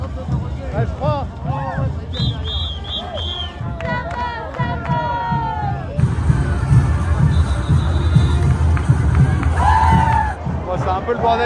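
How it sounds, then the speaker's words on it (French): A large, dense crowd at the Gran Poder carnival fills the air with a continuous roar of chatter and festival noise, with voices talking close by throughout. "C'est un peu le bordel, il y a énormément de monde"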